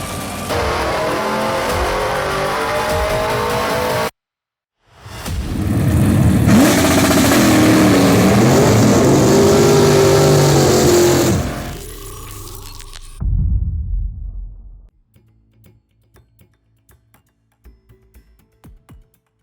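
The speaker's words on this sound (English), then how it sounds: "Over 800 horsepower and more than 950 pound-feet of torque from a 1969 Hemi 426." A 1969 Hemi 426 V8 running and revving hard, a loud sustained roar that cuts out abruptly, then a long rising rev before dropping away to near silence with faint trailing sounds.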